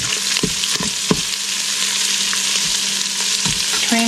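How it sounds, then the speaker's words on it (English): Onion frying in a pot with browned meat for lasagna soup, a loud, steady sizzle with several sharp spoon scrapes and clatters of stirring, no talking. "Okay, my meat's browned here. I'm going to put in my onion."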